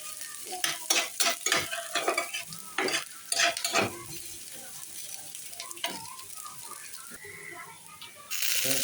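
Chopped garlic and green chili frying in a pan with onion, a moderate sizzle under repeated stirring and scraping bursts with a utensil, fading to a steady low crackle near the end.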